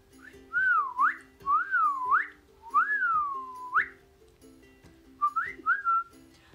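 A person whistles a short tune up close. The phrases are clear and sliding, with a few quick notes at the end and brief pauses between them.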